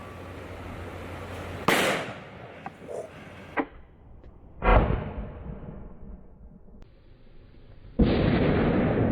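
Black powder set off by a Hi-Point pistol bursts into a fireball at an outdoor shooting range, giving a loud sharp blast followed by a decaying whoosh, with several smaller pops and a later sustained roar, no speech.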